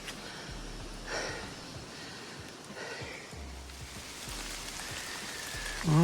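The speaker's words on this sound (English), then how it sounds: "the rain started to come through" Rain pours down along the Appalachian Trail during a climb out of the Nantahala Outdoor Center, a steady close patter of drops with a few louder gusts and splashes.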